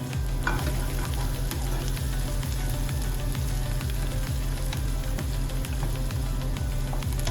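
Two whole green chillies fry in hot oil in a pan for paneer bhurji, a dense, continuous sizzle with faint stirring scrapes, close and steady throughout with no talking.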